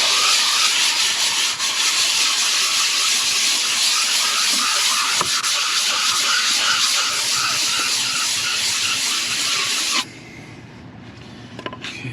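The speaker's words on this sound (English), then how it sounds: "let us proceed with 220 grit" A steady, loud hissing rasp of 220-grit sandpaper worked across the head surface of a Ford 5.4 liter engine continues for about ten seconds, then stops, leaving faint clicks.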